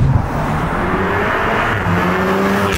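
Turbo-tuned Volkswagen Golf R with a hybrid turbo pulling away, its loud, close engine note holding a steady droning roar that climbs slightly in pitch as it drives off.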